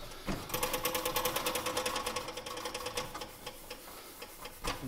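Metal polishing along the damaged, worn front edge of a 1920s Prentiss-Wabers Auto-Cook-Kit No. 4, a fast, steady rhythmic whirring with regular ticking pulses, close and fairly loud throughout with no talking.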